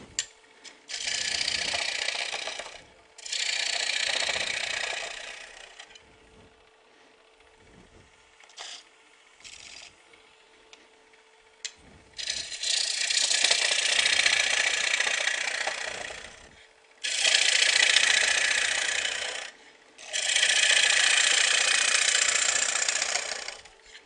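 Woodworking machine running in bursts while wood is shaped, several loud stretches of cutting noise separated by quieter pauses of the motor running alone.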